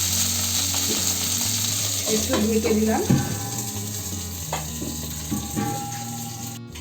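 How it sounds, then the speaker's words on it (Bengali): Okra (bhindi) frying in oil in a covered pan, with a steady close sizzle and a few clatters, while someone speaks briefly over it. "খালি ভাজছি অল্প, হালকা করে তেলে ভেজে নিলাম"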